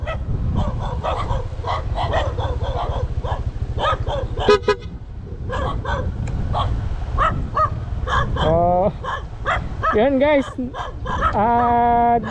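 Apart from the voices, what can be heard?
dogs barking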